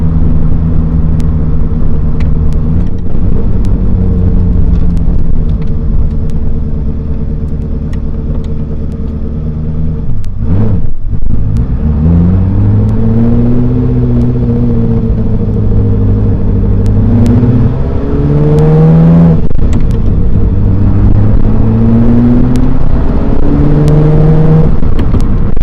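A loud Ferrari F40 engine revs and accelerates through several gear changes, pitch climbing and dropping repeatedly, heard close from inside the car.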